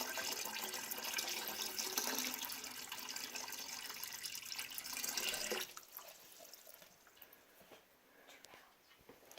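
Water pours steadily into a bucket during a K-truss bridge load test, a continuous splashing rush lasting several seconds before cutting off to faint trickling and handling noises.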